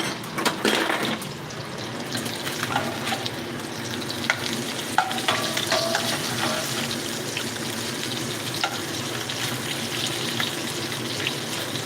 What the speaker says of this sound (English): Let's try to not burn my bacon.